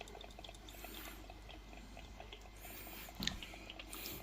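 Water poured over freshly caught crabs, which were taken with a fishing line. A faint, close trickle and splash runs with scattered drips, and a brief louder splash comes near the end, with no talking.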